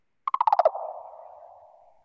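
A pink-legged insect's night call opens with a quick burst of about seven sharp clicking pulses, then blurs into a buzzy trill that slowly fades. It is heard alone and fairly close.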